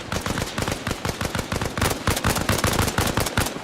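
Rapid automatic weapon fire in Arma Reforger, a modded military roleplay game, with dense bursts of loud, close shots rattling almost continuously throughout.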